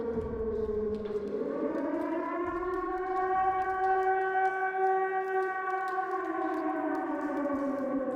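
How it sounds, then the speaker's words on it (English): A loud wailing siren in the video game Silent Hill 2 sounds steadily, its pitch dipping then rising and holding high in a long, sustained, slightly wavering tone with no voices. "Now he's gone, following whatever siren that is."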